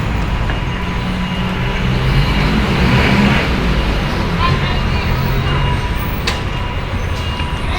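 Busy street traffic near a city hall jeepney loading point in the Philippines, engines idling and rumbling in a steady close wash of road noise, with voices talking throughout.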